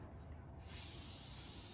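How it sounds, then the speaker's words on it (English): A can of cooking oil spray, used to grease a baking pan for a beef casserole, lets out a steady close hiss that begins after a short quiet start and carries on to the end. "we're going to be using oil can spray"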